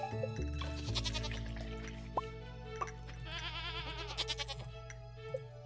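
Goats bleating on a farm in the video game Stardew Valley, several wavering bleats overlapping a looping tune with steady plucked notes, fairly loud and close.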